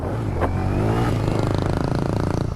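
A motorcycle engine idles loud and close in a steady low throb, briefly rising in a rev early on while the bike is worked on, with no talking over it.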